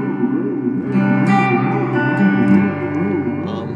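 An Electro Harmonix Cathedral reverb pedal set to its Grail flerb mode washes a guitar in dense, shimmering reverb, with sustained notes blurring into a loud, continuous ambient tail throughout.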